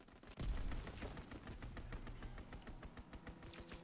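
Strafing run by a fighter plane in Call of Duty: WW2, heard as a heavy impact followed by a fast, steady rattle of gunfire that stays dense and fairly loud for several seconds.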